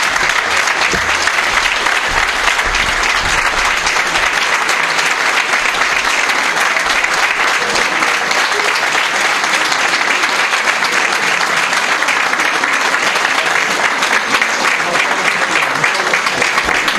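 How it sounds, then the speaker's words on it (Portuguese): Sustained, dense applause from a large crowd at a Socialist Party campaign lunch as mayor and re-election candidate Vítor Figueiredo of São Pedro do Sul takes the stage, loud and steady throughout without a break. "Aplausos!"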